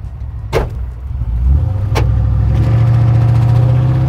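A lowered 1967 Chevy C10 pickup on 20-inch wheels drives off with a rumbling engine that builds in revs. Two sharp, brief scraping bursts from the underside cut through the engine sound.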